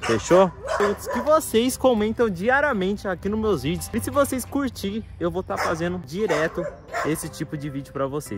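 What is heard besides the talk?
small dog barking in background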